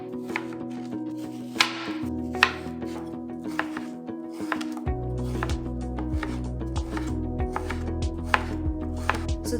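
A knife chopping ripe, peeled pears on a board, with repeated soft thuds and taps in an uneven rhythm, close, over a faint background of music.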